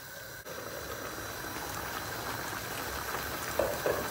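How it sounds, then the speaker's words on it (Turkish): Pot of olive-oil vegetable dish simmering on a stovetop under a closed lid, a steady faint bubbling hiss with a soft tick near the start. "Tamamen kaynamasını bekleyeceğim."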